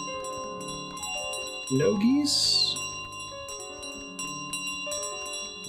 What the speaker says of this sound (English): Everyone hits the load bearing bell.